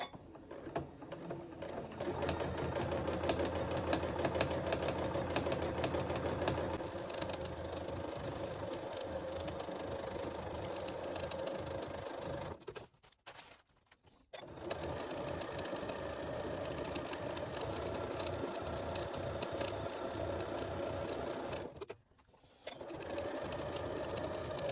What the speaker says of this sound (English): I'm going to just stitch all the way around the edge.